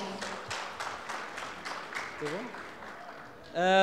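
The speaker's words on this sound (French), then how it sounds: "Si on peut l'applaudir chaleureusement." Audience applause at a Kabyle community event in Canada, a modest spread of claps with a voice speaking over it, followed by a brief tonal burst at the end.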